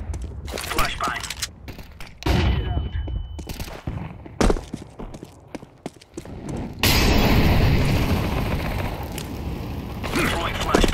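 A flashbang grenade goes off in Counter-Strike amid a busy mix of mechanical clatter and sharp bangs, followed by a sustained loud ringing wash of noise; a voice speaks over parts of it.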